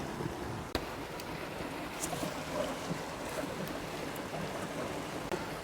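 A small waterfall on a hike at Big Tujunga, a steady, even rush of falling water heard close and continuous, with a sharp knock near the start and faint scattered sounds over it.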